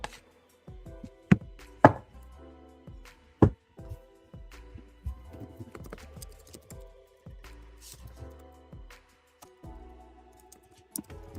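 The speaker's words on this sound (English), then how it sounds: "All right, I'm shuffling for you, Amy." Tarot cards shuffled close up in a quiet room, giving irregular soft riffling taps and a few sharp clicks and knocks over about eleven seconds, with no talking.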